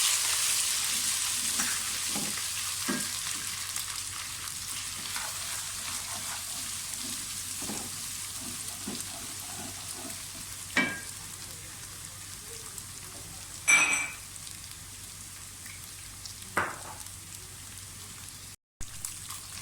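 Steady soft sizzling of garlic and ginger paste frying in a pan, with occasional clinks of a spoon stirring; no voices.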